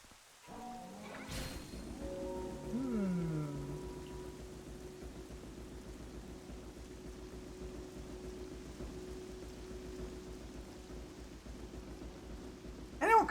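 Rain and thunder in the video game Twilight Princess: a steady soft hiss of rainfall fills the scene after a brief rumbling crack and some rising tones early on, continuing evenly at a moderate distance.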